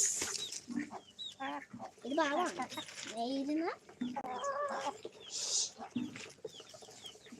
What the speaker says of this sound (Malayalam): ഇത് കൊത്തൊക്കെ ഓടുന്ന കോഴികളാണ്